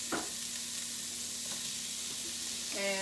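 Onion going into a hot pan with garlic for meal prep, a continuous close sizzle with a soft stirring scrape and a faint hum underneath, no talking.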